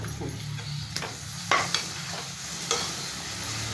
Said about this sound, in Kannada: ರುಬ್ಬಿಟ್ಕೊಂಡಿದ್ನಲ್ಲ ಶುಂಠಿ ಬೆಳ್ಳುಳ್ಳಿ ಹಸಿರು ಮೆಣಸಿನ್ಕಾಯಿ ಇದು ಫ್ರೈ ಆಗಲಿ